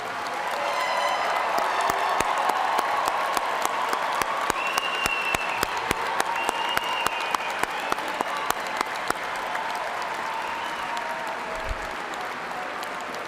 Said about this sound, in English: let us recognize with a hearty round of applause Eastern Kentucky University's newest graduates